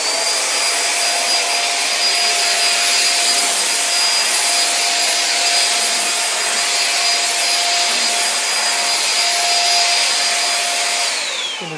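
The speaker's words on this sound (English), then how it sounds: "I just want to show doing a little bit of sweeping." A Monster H055 cordless stick vacuum sweeps a hardwood floor with a continuous high-pitched motor whine and airflow hiss. The tone stays steady and close throughout, with no one talking.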